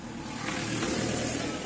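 A vehicle carrying twelve statues to an ashram gives off a steady, fairly loud engine rumble with no talk.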